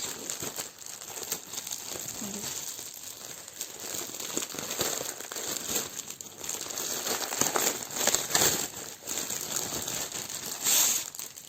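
A package of white Aida cross-stitch fabric, 79 by 50 cm, unwrapped by hand, with continuous close crinkling and rustling of plastic wrapping and occasional louder crackles, no voice.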